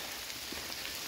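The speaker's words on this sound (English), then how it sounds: "you get kind of some of the same activity when it's downpouring like this" Heavy downpour of rain at night in Quarry Gorge, a steady dense hiss of drops pattering on surfaces, continuous and close with no voices.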